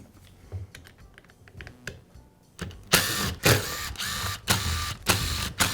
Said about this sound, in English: I'll begin by removing the rear handle cover.